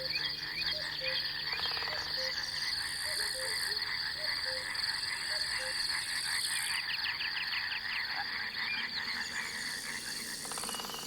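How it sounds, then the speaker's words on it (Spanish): A chorus of frogs croaks at dusk, layered, continuous calls, with crickets trilling steadily beneath and no voices. "los coros de grillos y anfibios al caer la tarde"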